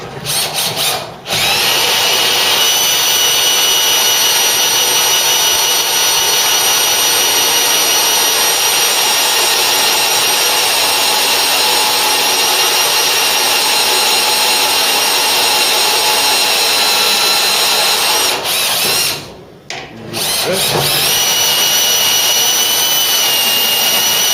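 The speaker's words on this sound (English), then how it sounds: "Dip the end of the drill in the cutting oil" Power drill boring into metal on a Mk3 Ford Cortina during a classic car restoration, bit dipped in cutting oil; a loud, steady high whine runs almost unbroken, with a short stop near the start and another gap toward the end.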